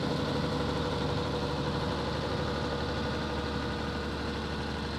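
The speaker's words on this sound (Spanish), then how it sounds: "Dejamos a Héctor probando el autoguiado que acaba de instalar en su tractor" A tractor fitted with an auto-guidance system runs its engine in a field, giving a steady, even, broadband rumble that stays constant throughout with no talk.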